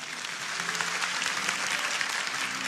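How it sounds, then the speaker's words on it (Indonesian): A church congregation applauds together during a Sunday service, a dense, steady wash of clapping that holds at full strength throughout with no talk over it. "Kasih tepuk tangan untuk Tuhan."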